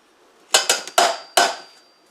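Butter and sugar creamed together in a bowl by hand, giving four or five sharp knocking and scraping hits in an uneven rhythm, close and fairly loud with no voice.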